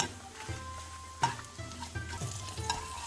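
Oil crackles and sizzles steadily as a hot tempering of fried curry leaves, onion and chili hits a Kerala-style salmon curry, with brief spatters and a soft stirring clink, no voices.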